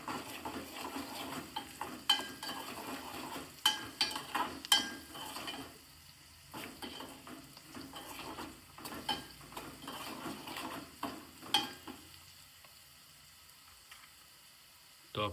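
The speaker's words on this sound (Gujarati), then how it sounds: "તો આપણે હજુ ફ્રાય થવા દઈશું" Chopped green chillies frying in a pan with turmeric, salt and coriander-cumin powder, cooked village style, with a spoon stirring and scraping the pan in repeated clinks over a steady soft sizzle, close by.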